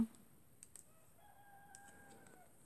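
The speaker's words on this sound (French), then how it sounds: "Mon coq qui chante." A rooster crows once, fairly faint and a little distant, its drawn-out call rising and holding over a quiet background with a couple of small clicks.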